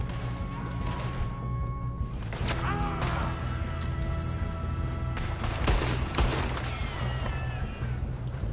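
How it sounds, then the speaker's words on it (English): A Red Dead Redemption 2 shootout during a robbery: scattered gunshots and crashes ring out over a bed of tonal game music, fairly loud but partly masked by the score. "One of you shoot those bastards!"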